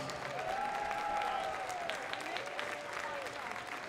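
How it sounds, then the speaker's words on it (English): Crowd applause at a varsity ice hockey senior night in a rink, honoring seniors and their families; steady broadband clapping for about four seconds with a tonal whistle or horn-like sound sweeping through, moderately loud and continuous. "let's give all of our seniors and our members of families a big round of applause."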